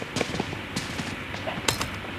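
Gunfire from a shooting video game, with several separate sharp shots spread over a couple of seconds at moderate loudness against a steady background hiss.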